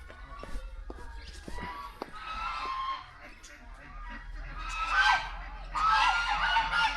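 Geese at Sidkeong bird park in Sikkim honk in a noisy, overlapping outdoor chorus that swells louder toward the end, with quiet voices and footsteps nearby.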